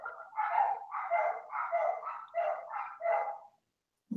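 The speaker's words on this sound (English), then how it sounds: "My dogs are barking in the background." Several dogs barking in a steady, rapid run of loud, close barks that go on for about three and a half seconds and then stop abruptly.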